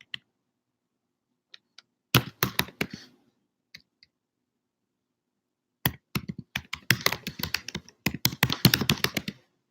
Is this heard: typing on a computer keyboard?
yes